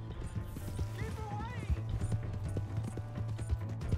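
Horse hooves clip-clop in a steady rhythm in the Red Dead Redemption 2 video game, close and moderately loud, with a brief whinny-like tone partway through and game sounds underneath.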